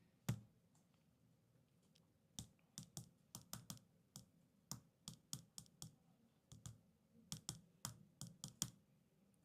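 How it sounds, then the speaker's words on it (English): Typing on a computer keyboard during a live stream, heard as a steady run of sharp, close clicks in uneven bursts over quiet room background, with no talking. "You guys can actually hear me typing."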